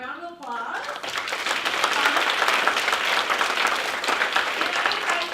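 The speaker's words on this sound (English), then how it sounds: "let's give James and Neil a round of applause." A round of applause for James and Neil swells from a forum audience after a brief voice, then holds as dense, steady clapping filling the room.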